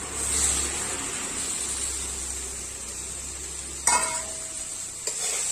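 Ivy gourd with boiled chickpeas cooks in a pan, giving a soft continuous sizzle with a few light scraping stirs near the end, fairly quiet and without talk.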